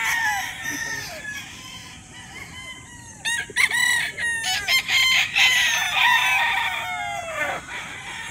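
A gamefowl rooster, a liver hatch broodcock on a gamefarm, crows repeatedly in long rising-and-falling calls. The calls are loud and close, and fainter crows from other birds overlap them, with no talking.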